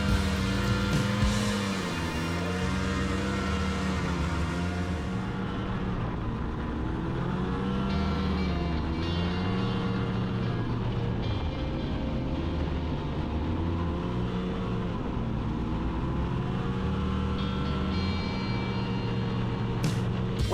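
A crossover snowmobile rides through deep powder, its engine droning steadily and rising and falling in pitch as the throttle shifts, loud and continuous throughout with no voices.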